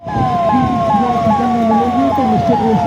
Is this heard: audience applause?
no